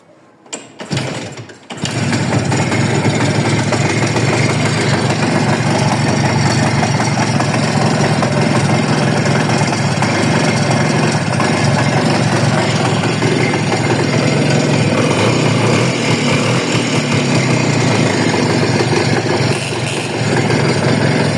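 A motorcycle engine starts and settles into a loud, steady idle close by, running evenly with no talk over it.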